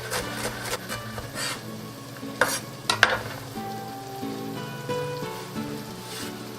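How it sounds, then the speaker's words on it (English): Mini bell peppers and other vegetables sauteing in a pan, a steady close sizzle with scraping stir clatter and a couple of sharper utensil knocks. "We're sauteing our vegetable."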